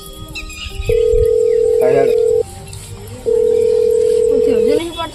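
An unanswered phone call ringing back through the handset, two long steady ring tones separated by a pause, loud and close, with faint background voices in between.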